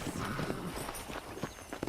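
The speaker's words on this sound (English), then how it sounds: "let's see if you can still ride a horse." Horse hoofbeats from riding in the video game Red Dead Redemption, a steady clip-clop of a horse on the move, moderately close, with no talking.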